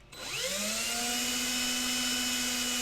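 A small drill spins up into a resin model kit, its whine climbing quickly in pitch and then holding a steady, close, continuous tone.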